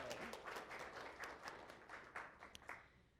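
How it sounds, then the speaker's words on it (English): An audience at the end of a hands-on Python class for beginners claps for two helpers, a faint scattered round of applause with distinct individual claps that thins out toward the end. "a big round of applause to our two helpers, Adam and Dana"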